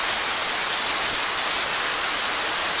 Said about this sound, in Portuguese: A chuva veio, ó.